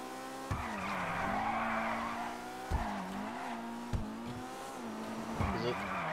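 A Maibatsu Penumbra FF drifts in GTA Online, its tires squealing in long sustained skids over a droning engine whose pitch rises and dips with each slide, punctuated by sharp thumps.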